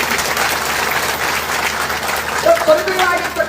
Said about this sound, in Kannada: ಜೋರಾಗಿ ಚಪ್ಪಾಳೆ ತಪ್ಪಿ